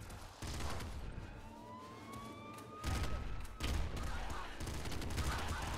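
Gunfire from crafted weapons in the game Nuclear Throne, including an assault-rifle-ammo gun, crackles in rapid bursts alongside whistling projectile tones, with loud volleys returning in the second half.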